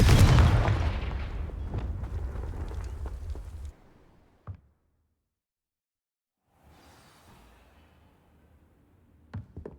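A Confringo explosive spell from Hogwarts Legacy detonates with a loud booming blast at the start, its crackling debris and rumble trailing off over a few seconds into near silence, followed by faint ambient sound and a couple of soft thumps.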